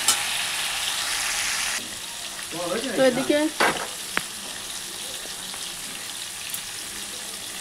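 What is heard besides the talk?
bori (lentil dumplings) frying in oil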